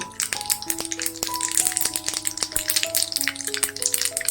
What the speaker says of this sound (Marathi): मोहरी चांगली तडतडल्यानंतर मग हळद घालायची